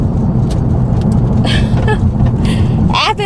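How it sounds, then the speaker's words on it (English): A Ford Mustang with a manual gearbox reverses slowly, its engine a loud, steady low rumble close by, with faint higher whirs and rattles partway through. "Shift yourself into reverse and slowly let off the brake until you feel yourself moving. Give it a little gas"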